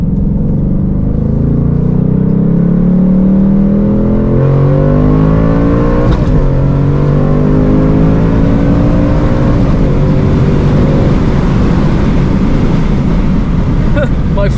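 Ford Mustang Mach 1 held in place while its tires spin, the engine revving up and down loudly and close by, with a continuous roar throughout.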